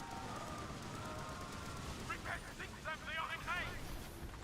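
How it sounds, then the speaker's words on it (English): Enemy ship firing cannons at sea in the pirate game Skull and Bones, a rolling barrage of booms under constant wave and wind noise, with a voice speaking over the battle. "watch him shoot his rockets, or his cannons into the waves"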